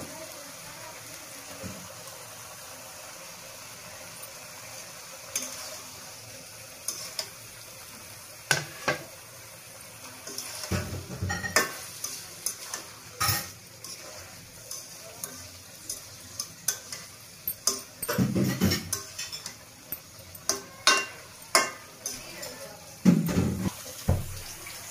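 Tomatoes go into a hot pan of frying fish, with a soft continuous sizzle broken by intermittent clattering stirs and scrapes that grow busier toward the end.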